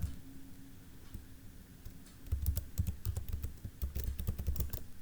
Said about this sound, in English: you retype your password and then type enter